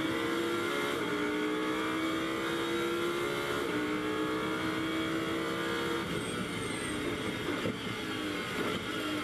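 Lamborghini Super Trofeo race cars at the Nürburgring circuit, engines roaring loud and steady as the car climbs under full throttle, with pitch rising through gear changes and a brief dip before surging again.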